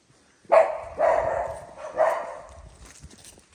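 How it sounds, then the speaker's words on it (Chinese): A dog barks in an outdoor setting in Chengdu, three loud nearby barks spaced about half a second to a second apart, each trailing off, with no talking. "这里狗叫也没看到它"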